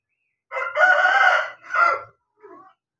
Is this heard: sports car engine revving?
no